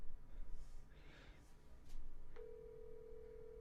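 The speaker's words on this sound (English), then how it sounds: "and it's ringing" A phone call ringback tone after dialing through a carrier's calling app, a single steady tone starting partway through, quiet, preceded by faint handling and breathing noise.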